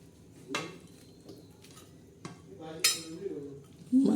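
A spoon stirs chicken curry in a pan over a low flame, giving a few scattered scrapes and metallic clinks against the pan at uneven intervals, fairly quiet, with a voice faintly present.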